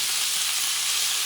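Shrimp fry in a pan over medium heat for black paella, giving a steady, close, broadband sizzle that holds evenly throughout with no talk.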